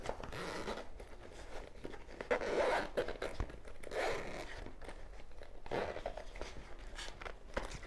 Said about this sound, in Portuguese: Agora vou abrir o zíper.